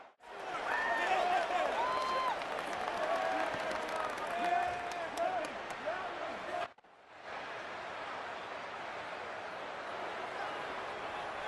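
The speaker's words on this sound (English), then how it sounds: "this home crowd ready to celebrate a very satisfying home victory" A home crowd at a college football game, late in the fourth quarter: broad, sustained crowd roar and applause with talking over it, a short break, then the crowd noise returns more softly.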